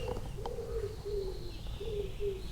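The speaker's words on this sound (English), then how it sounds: "So the little birds have just woken up." Small birds calling near a nest at a campsite, a series of soft repeated coos and chirps at close range, pulsing every half second or so over steady outdoor background noise, with no talking.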